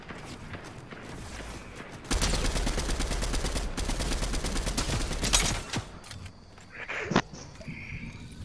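Gunfire in the video game Fortnite: a loud, dense burst of rapid shots lasting several seconds, then fading to scattered quieter game noises.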